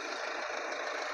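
A 2015 Skoda Rapid Ambition engine idling, a steady, even hum with a faint rhythmic tick, close by and unbroken, with no one talking.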